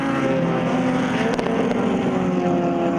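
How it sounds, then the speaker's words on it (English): Sports and saloon race cars, a Honda among them, lap the Zwartkops circuit as the race ends, their engines making a steady, droning roar at moderate distance with no break. "As Louis comes to the line for the race 1 win."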